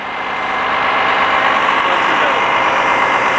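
A 2007 Gillig transit wheelchair bus with a Cummins ISM diesel engine idles close by, a loud, steady rumbling drone that holds even throughout with no pauses.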